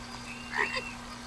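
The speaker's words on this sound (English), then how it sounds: "Oh, it's a frog." A frog croaks in the video game Beyond Eyes, giving one short, faint call of about a second over a quiet ambient background with a steady low hum.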